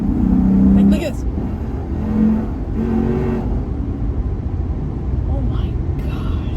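A modified Lexus IS F engine drones and rises under kickdown acceleration, a steady low rumble heard from inside the car, with someone talking over it throughout.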